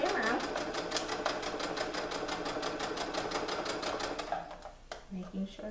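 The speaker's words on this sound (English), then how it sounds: "I'm just going to keep sewing my straight stitch" A sewing machine runs a straight stitch through leggings fabric, a fast rapid-fire mechanical clatter that stays steady for several seconds before stopping, with a person speaking over and after it.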